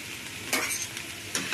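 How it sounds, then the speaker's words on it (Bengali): Pumpkin curry is stirred in a pan just after the lid comes off, with two quick scraping strokes over a low, steady sizzle. "এবার ঢাকাটা খুললাম, আবারও নেড়ে নেব।"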